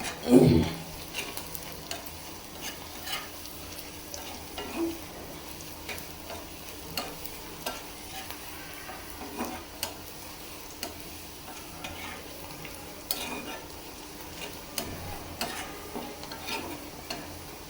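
Garlic, onion, panch phoron and dried chilli fry in oil with a soft, steady sizzle, dotted with light ticking pops and occasional clinks of stirring throughout, and no talking.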